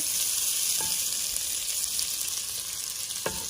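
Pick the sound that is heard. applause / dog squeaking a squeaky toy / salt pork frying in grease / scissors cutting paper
salt pork frying in grease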